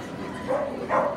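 A Kerry Blue Terrier at a dog show in Moscow gives two short, fairly faint barks in quick succession against a murmuring room background.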